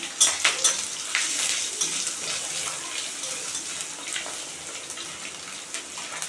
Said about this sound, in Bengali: আমি জিরে আর রাঁধুনি একসঙ্গে ফোড়ন দিয়ে দিলাম।